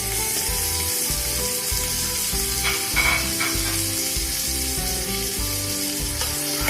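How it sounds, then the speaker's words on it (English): Steady oily sizzling of crab frying in oil in a pan for Bengali crab curry, continuous and close, with faint stirring clatter and no talking. "Give it a stir and fry it for 1 to 2 minutes till a pink color comes"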